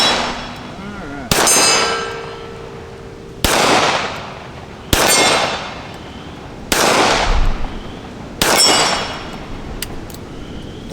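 A Colt Cobra revolver fires five spaced shots at steel plates, each sharp crack followed by a bright ringing clang that fades before the next, outdoors and close.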